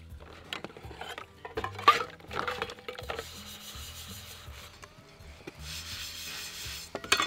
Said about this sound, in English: And I take my sponge and just clean dishes like you would at home.